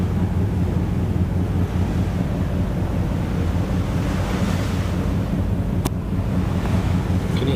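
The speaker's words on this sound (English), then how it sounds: "The waves lapping against the hull of the Star Ferry." Waves lap and splash against the hull of the Star Ferry as it crosses the harbour at Tsim Sha Tsui, a loud continuous wash mixed with wind buffeting the microphone and one sharp click near the end.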